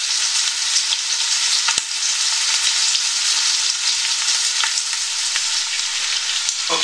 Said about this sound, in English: that's the bacon chopped up and added to the pot. It's been sitting away for a little while. I want to get some of that fat rendered out of it.